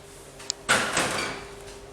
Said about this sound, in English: let's pull down the oven door, bearing in mind that this is very hot